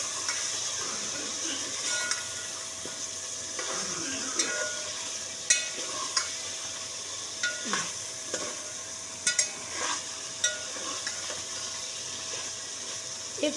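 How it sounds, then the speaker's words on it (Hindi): Ginger garlic paste fries in a pot for a chicken polao, with a spoon stirring and scraping in repeated strokes over a steady close sizzle. No one speaks. "और फिर इसको थोड़ी सी देर जो है हम चलाएंगे, ताकि लहसुन अदरक की स्मेल जो है वो ख़त्म हो जाए"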